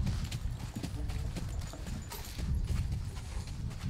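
A horse's hooves clip-clop at a steady walking rhythm on a hard surface at a stud farm. The hoofbeats sit fairly close and moderately loud over a noisy outdoor background, and no one speaks.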